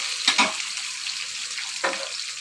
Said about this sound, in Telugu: ఇప్పుడు దాంట్లో ఆనియన్స్ గ్రీన్ చిల్లీస్ వేసాను